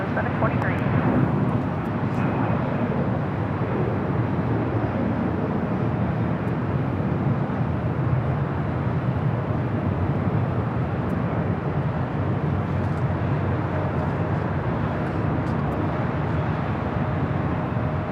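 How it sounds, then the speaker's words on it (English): A JetBlue airliner lands on runway 24 right at Los Angeles International Airport, its steady broad engine roar filling the whole stretch at a loud, even level with no break. "JetBlue 723, LA aircraft in the wind 25, 9er runway 24 right, good one. Right, clear to land, JetBlue 723."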